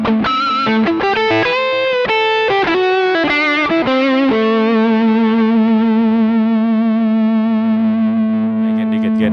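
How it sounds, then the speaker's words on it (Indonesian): Charvel San Dimas Pro Mod electric guitar (Mexico, 2016) played through distortion on its humbucker pickups: several loud, gritty chord stabs, then a long sustained chord ringing out and slowly decaying. "Sekarang tambahin distorsi, masih di humbucker ya."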